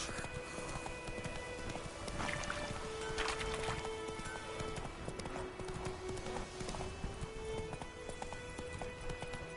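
Hooves of Roach, a horse in The Witcher 3, clip-clopping in a steady run across roughly ten seconds, mid-loud and continuous, mixed with ambient game sound and faint tonal music.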